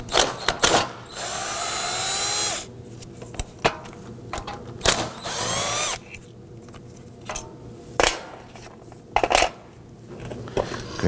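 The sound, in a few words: power tool with T40 Torx bit loosening bracket screws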